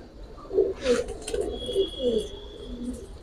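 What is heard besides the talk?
Safchila pigeons cooing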